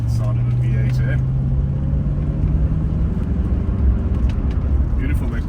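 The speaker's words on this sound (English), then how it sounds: "The sound of a V8, eh?" A 1988 Mercedes-Benz W126 420SE with its V8 engine, heard from inside while driving: a steady, loud low rumble with a drawn-out tone that holds for a few seconds, and someone talking over it.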